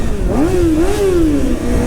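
A motorcycle engine revving through a cheap aftermarket exhaust, with a loud, close rev that rises, dips and rises again before settling back toward idle.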